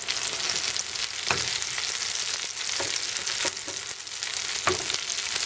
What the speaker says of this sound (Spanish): como que se fríen por un lado y por el otro